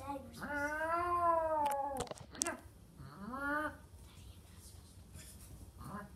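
A person imitates a cat, making two long drawn-out meows with a brief clatter between them, fairly faint.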